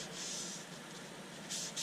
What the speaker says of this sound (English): That's a bit punky grain that I just run my hand over.